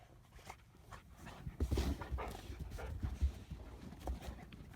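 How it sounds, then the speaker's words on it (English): Three one-year-old puppies play in deep snow, two of them wrestling, with scuffling, panting and occasional yelps over about five seconds, close by and without talk. "These 2 wrestling right here, Karma and Bear."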